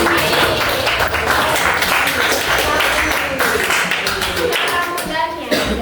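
A classroom audience claps for a student during a microteaching lesson on the water cycle. The clapping is loud and close, with some taps and voices mixed in throughout.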